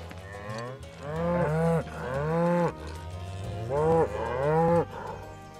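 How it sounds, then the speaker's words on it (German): Cows in Final Fantasy 7 Rebirth give several loud, drawn-out moos close by, the long, rising and falling calls overlapping one another across a few seconds with no talking. "Ah, die sind Kühe."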